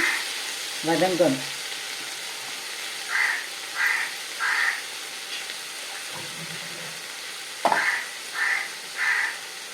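Onion, tomato and plantain sauté in a pan with a steady soft sizzle, while crows caw in short repeated bursts in the background.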